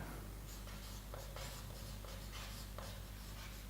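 Chalk or marker writing on a board during a Class 12 physics lecture on electric current, a soft continuous scratching with brief strokes over a steady low hum, no talking.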